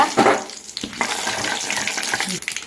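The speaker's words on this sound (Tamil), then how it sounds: "கடுகு கடலப்பருப்பு போட்டுக்கோங்க போட்டதும் கடுகு பொரியட்டும் கருவேப்பிலை போட்டுக்கோங்க" Mustard seeds, chana dal and curry leaves hit hot oil in a pan, giving a sharp sputtering burst at first that settles into an uneven crackling sizzle with scattered pops and light clinks, close by and without speech.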